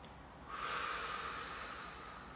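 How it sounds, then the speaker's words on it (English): One steady inhale drawn in through the nose, close and airy, rising sharply then holding as a long soft hiss, alone with no talk. "Now I'm going to breathe in my nose."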